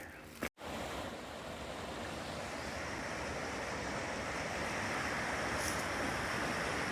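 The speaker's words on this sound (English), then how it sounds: "Rapids." Rapids on a stream near Little Rock Pond in Vermont, a loud continuous rushing roar of water after a brief handling bump, steady and close with no talking.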